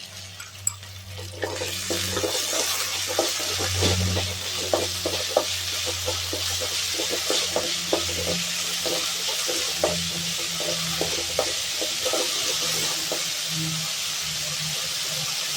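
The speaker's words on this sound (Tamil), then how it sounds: "தண்ணி வச்சிச்சுன்னா கொஞ்சம் எண்ணெய் விட்டு நல்லா வதக்கலாம்." Turkey berries sizzle and fry in oil in a pan for chutney, a steady hiss with frequent scraping and stirring clicks from a spoon, close and continuous with no talking.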